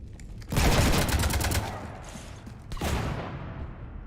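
Gunfire rakes a ship in Mass Effect 3. A sudden burst of rapid automatic shots runs for about two seconds, eases briefly and then returns in a second volley. The shooting is loud and continuous over a low rumble.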